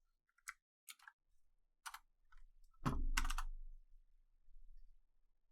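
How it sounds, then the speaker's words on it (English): Sparse keystrokes on a computer keyboard, a handful of separate sharp clicks spread out with pauses between them and one heavier thud midway, close and fairly quiet over a faint low hum. "I'm gonna type this into my computer here and see where we're at"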